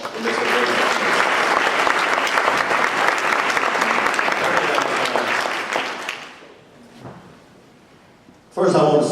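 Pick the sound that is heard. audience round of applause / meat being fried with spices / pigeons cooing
audience round of applause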